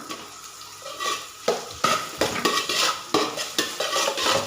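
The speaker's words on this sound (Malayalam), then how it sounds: "ഇതിലേക്ക് കൊച്ചുള്ളിയും ഒരു സവാള അരിഞ്ഞതും ചേർത്ത് കൊടുക്കാം ഇതൊന്ന് വയറ്റി കൊടുക്കാം" Shallots, chopped onion and slit green chilies sautéed in a pan, with a ladle scraping and stirring in repeated strokes over a continuous sizzle, close and fairly loud, with no voices.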